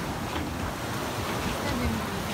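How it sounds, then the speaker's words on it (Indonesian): Ocean waves off Nusa Penida wash in a steady, broad roar. Wind buffets the microphone and drowns out any distinct crests. "Ombak."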